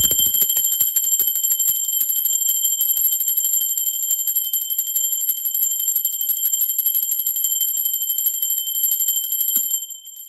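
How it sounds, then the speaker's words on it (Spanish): A single bright bell rings out and sustains a long, clear, steady tone, slowly fading toward the end, with no voices. "Ahora sí, va campana."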